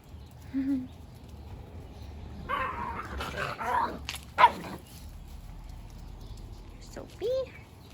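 Playful puppies bark, yip and whimper on and off on a rainy day, with short sharp barks and squeals of varying loudness near and mid-distance, and a person's voice in between.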